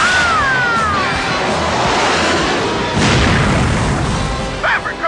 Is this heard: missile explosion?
yes